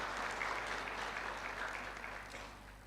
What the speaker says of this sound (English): May I please ask you to give one more applause for Prof.